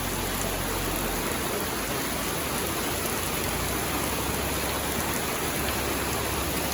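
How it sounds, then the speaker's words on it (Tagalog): Dense, unbroken roar of heavy rain pouring down, loud and constant throughout with no pauses. "ang lakas na ng ulan"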